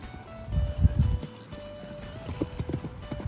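Horses walking in from the pasture at dinnertime, their hooves clip-clopping in a loose, uneven rhythm at close range, briefly louder early on and then steadier, with no talking.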